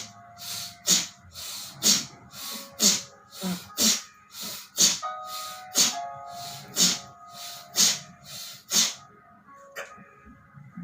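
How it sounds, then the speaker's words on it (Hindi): Forceful breaths during a yoga breathing exercise, a steady series of about ten sharp, loud, close exhalations through the nose, evenly spaced about a second apart, with no talking. "Breathe in and breathe out."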